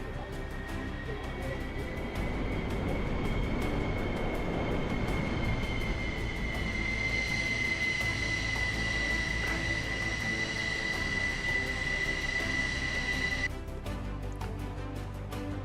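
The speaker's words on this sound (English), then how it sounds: "I found 3 planes having a bit of a play" Helicopters, apparently three Chinooks, fly past in Réunion. The sound is a continuous, loud, broadband rotor and engine roar with a steady whine. It holds for the whole stretch, then the tone changes near the end, with no talking.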